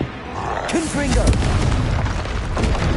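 A Confringo fire spell from Hogwarts Legacy bursts in a deep, booming roar that rumbles for a few seconds, loud and close, with a voice speaking over the blast.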